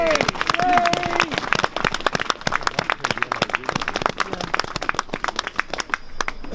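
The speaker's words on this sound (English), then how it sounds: "So please give a big round of applause and appreciation for Helen McElroy." Outdoor protest rally outside a magistrates' court in Sheffield, with the crowd breaking into a round of applause; crisp, scattered claps fill the open air, a voice briefly heard at the start.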